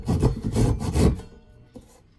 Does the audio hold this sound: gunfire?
no